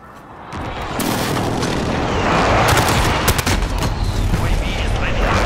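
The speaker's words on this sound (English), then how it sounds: "Allied precision airstrike incoming." Airstrike explosions and gunfire in Call of Duty Modern Warfare, with rumbling booms building over several seconds while sharp gunshot cracks punctuate the dense, loud battle noise.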